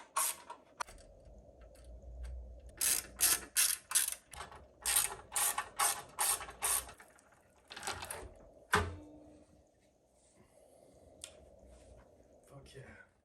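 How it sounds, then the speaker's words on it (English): The freshly refitted rear wheel of a Honda C90 motorcycle spins freely in a workshop, giving a close, rapid ratcheting tick in repeated bursts that slows and fades, with a voice speaking briefly. "The wheel spins beautifully."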